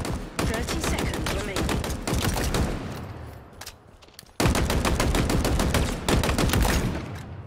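Rifle fire in the Halo Infinite video game sounds as rapid bursts of loud, closely spaced shots, pausing briefly before a second dense volley, with faint game sounds between bursts.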